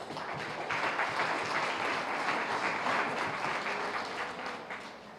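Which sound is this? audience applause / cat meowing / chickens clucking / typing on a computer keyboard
audience applause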